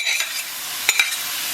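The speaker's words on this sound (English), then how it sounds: "So now the water's all gone, it's frying, and it's starting to brown." Goat meat fries and browns in a pan for a Javanese goat curry, giving a steady close hiss and sizzle with a couple of brief stirring scrapes partway through.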